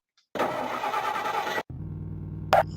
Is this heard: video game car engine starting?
yes